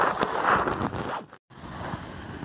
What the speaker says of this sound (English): This is about as windy as I feel comfortable filming.